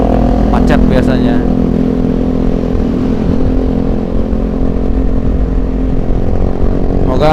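Motorcycle engine droning steadily while riding through heavy evening rush-hour traffic in Jakarta, a loud close hum with brief revs and horn-like blips at the start and near the end.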